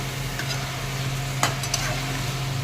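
Pieces of desi duck meat are stirred as they fry in a pan with chillies for a masala duck curry. A steady sizzle runs throughout, broken by a couple of short scraping clacks from the spoon.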